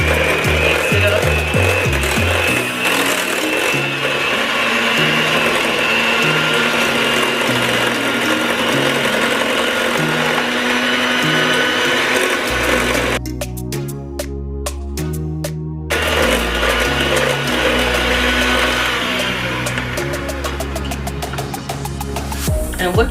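An electric mixer whirs through gooey butter cake filling in a home kitchen, a loud continuous buzzing drone with rhythmic chugging, briefly changing tone midway as the beaters shift in the batter.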